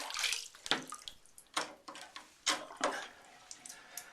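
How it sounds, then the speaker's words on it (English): Water sloshes and gurgles quietly as it drains, with soft intermittent splashes and drips in a quiet room. "I'm just going to let the water out of the tub"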